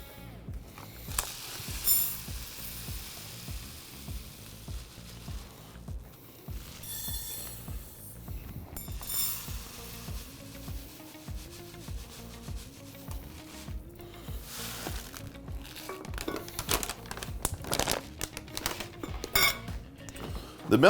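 Millet grains are stirred in a dry, hot sauté pan over a high flame, making close scraping and rustling with light metallic clinks from the utensil against the pan. The sounds are irregular and continue throughout, with some faint voice in the background.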